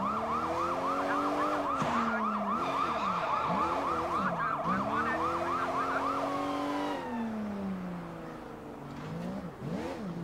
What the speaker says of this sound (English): As I'm whizzing by with the sirens blaring.